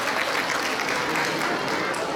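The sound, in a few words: audience applause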